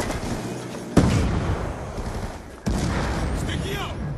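Sustained gunfire from the Death Machine minigun in Call of Duty Black Ops II multiplayer on Nuketown 2025: a dense, loud roar with sharp bursts starting about a second in and again near the end.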